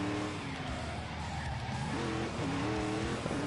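Car engine in The Grand Tour driving video game: a loud continuous engine drone with rising and falling revs and a tire squeal, close and steady with no talking.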